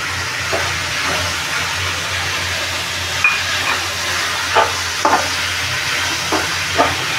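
Tomatoes go into a frying onion masala for an oyster curry, with a steady sizzle and hiss under stirring and a few soft scrapes of a spoon against the pan.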